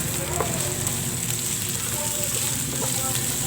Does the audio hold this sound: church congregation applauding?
no